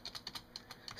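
Rapid, light clicking of the space bar on a Razer Lycosa computer keyboard at close range, about eight quick strokes in an uneven rhythm, fairly quiet.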